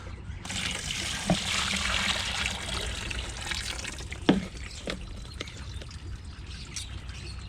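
Water is dumped out of a container used in planting sugarcane cuttings, a steady close rushing pour lasting several seconds with a couple of brief knocks from the vessel partway through.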